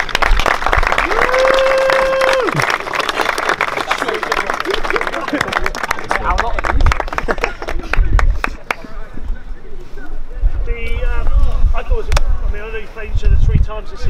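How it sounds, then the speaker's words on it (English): Applause from parents, friends and supporters at a sports club season gathering, a dense, steady clapping crowd through most of the stretch, with voices and cheers mixed in and the clapping thinning toward the end. "So maybe a round of applause for all them."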